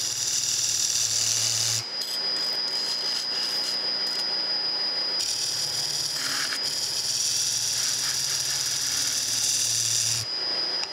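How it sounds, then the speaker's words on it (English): A bedan tool cuts a wooden foundry pattern for a steam stoker engine valve on a lathe, giving a loud, steady hiss with a low motor hum that breaks off briefly twice, then runs continuously. "I'm just going to use my bedan tool. We're going to come in here and we'll just cut until that cleans up."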